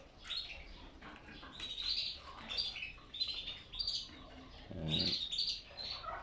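Pet canaries (yellow cage songbirds) chirping: quiet, repeated short high tweets scattered through the clip, somewhat distant over a low background hiss.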